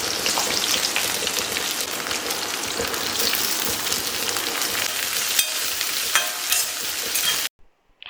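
Jackfruit halwa with sugar cooks on a low flame with a close, continuous sizzle and bubbling, plus occasional stirring, until it cuts off abruptly near the end.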